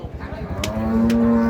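A large pregnant cow at a cattle market gives one loud, close moo that swells and holds to the end, with faint background sounds underneath.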